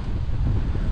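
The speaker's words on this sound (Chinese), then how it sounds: "现在又刮风了" Strong wind gusting across the open Gobi desert in Gansu, a steady loud roar battering the microphone with no voices.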